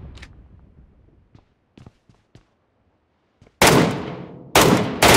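Gunfire in PUBG Metro Royale: a few faint distant clicks and shots, then two loud close bursts of rapid automatic fire.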